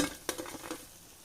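Small fried banana fritters made with milk and egg batter being scooped out of hot oil onto a plate, with a brief metal scrape and clink over a soft, fading sizzle.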